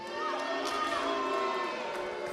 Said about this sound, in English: Frosty reception from the crowd.